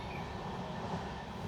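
A Matsyagandha Express LHB train runs along the tracks, a close, continuous rumble of wheels on rail with faint rhythmic clatter.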